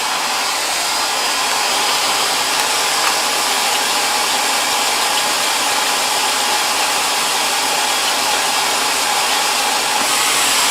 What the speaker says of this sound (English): So my main function with the hair dryer is to heat these edges.